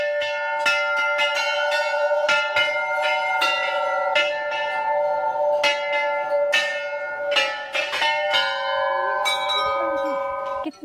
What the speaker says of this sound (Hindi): कितना अलग ये प्लेस लग रहा है, सारी घंटियां एक साथ।